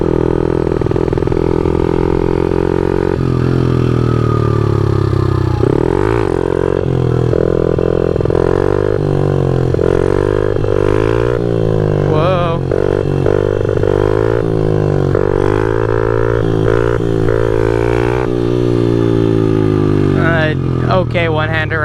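Motorcycle engine drones loud and close throughout, with rising and falling revs as the rider pulls a wheelie on an early-morning ride, heavy wind buffeting over it.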